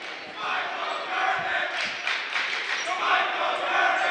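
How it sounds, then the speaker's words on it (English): Crowd noise swells at a boys' varsity high school basketball game between Bedford and Central as a player checks in, a loud sustained cheer filling the gym with scattered shouts. "the crowd comes in an uproar with a Michael Kernan chart."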